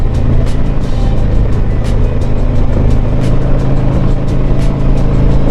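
A 2020 Harley Davidson Tri Glide Ultra trike cruising in fourth gear on a road, its engine giving a steady, loud low rumble with constant wind and road noise and faint periodic ticks, with no talking.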